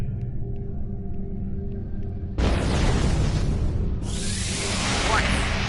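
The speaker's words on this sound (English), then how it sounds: "Warning. Artillery incoming." Artillery explosions in the video game Star Trek Online: a sudden loud blast cuts in over a steady low hum, then a sustained roaring rumble with a second surge, close and heavy.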